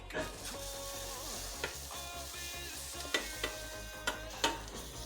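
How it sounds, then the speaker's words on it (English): A garlic clove sizzles and caramelises in a hot pan, a steady crackling fry broken by several sharp knocks and scrapes of a spoon stirring against the pan. "I'm really cooking this garlic off, nice and caramelising it"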